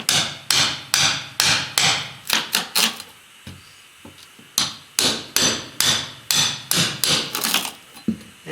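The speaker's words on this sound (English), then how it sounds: "I'm gonna pop these tack strips out here with my pry bar." Carpet tack strips pried up from a floor with a pry bar during carpet removal, heard as a run of sharp, loud wooden knocks and cracks in quick bursts, with a short lull midway.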